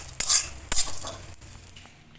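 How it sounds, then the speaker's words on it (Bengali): Gobindobhog rice frying in ghee in a kadai, stirred with quick metallic scrapes and clinks over a light sizzle, close by and fading toward the end. "প্রথমে আমি কড়াইতে একটু ঘি দিয়ে গোবিন্দভোগ চালটা ভেজে নেব।"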